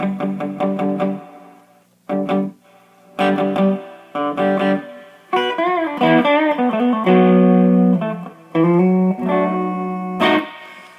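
Electric guitar played through a Fender Blues Deluxe amp with overdrive at bedroom volume, loud close chords and sustained bending notes in bursts separated by short pauses, ending on a final strum.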